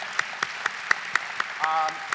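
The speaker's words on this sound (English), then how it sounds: "Give yourselves a round of applause." Audience applause at a White House Initiative on Educational Excellence education event: steady, evenly spaced claps at moderate distance, fairly faint, with a brief tonal voice-like sound partway through.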